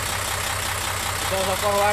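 A truck with a 6H1 engine idles with a steady low diesel rumble, and a voice starts talking over it near the end.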